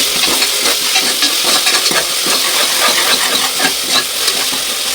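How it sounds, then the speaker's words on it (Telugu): Ginger garlic paste stirred into frying mushroom rice in a pan: a loud, dense sizzle with continuous scraping and tapping of a utensil against the pan, close and steady throughout. "1 స్పూన్ జింజర్ గార్లిక్ పేస్ట్ బాగా మిక్స్ చేసుకోవాలి"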